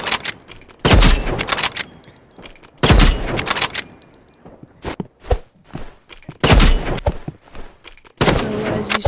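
Gunfire in the Rivals shooter video game: loud bursts of rapid shots in several separate volleys, with quieter footsteps and thuds in between and no speech.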